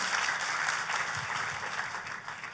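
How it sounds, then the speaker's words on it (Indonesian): A church congregation applauds at a worship service, a steady, dense wash of clapping that fills the room at moderate level, with faint low murmurs underneath. "Tepuk tangannya yang paling meriah buat Tuhan kita"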